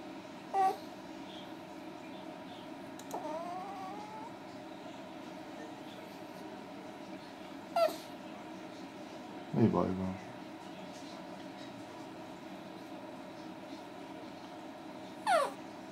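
A chihuahua whimpers and yips in short, scattered bursts, a few sharp high cries spaced several seconds apart over a steady low background hum, heard fairly close.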